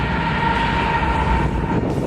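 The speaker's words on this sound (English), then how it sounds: "the train is coming to interrupt us." A train rumbles steadily nearby, a loud continuous roar of wheels on rails with a faint high tone running through it.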